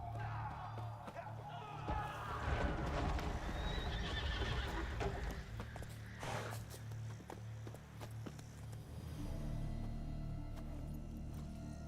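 Geralt's horse Roach in The Witcher 3 whinnies and clip-clops along at speed, hooves drumming steadily and fairly close, with game music and a voice speaking over parts of it.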